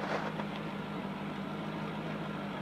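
A 2010 Corvette Grand Sport with dual exhaust idles in a parking lot, a low steady engine hum running continuously at moderate distance with no revving.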